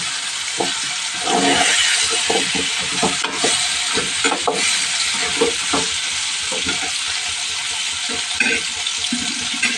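Drumstick pieces frying in a pan are stirred with repeated scraping knocks over a steady, dense sizzle, close up and fairly loud without pause.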